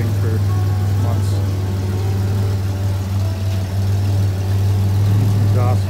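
A 1999 Toyota 4Runner salvage SUV idles loudly and steadily with a deep, slightly uneven drone that wavers at times, heard close up with faint background sounds over it.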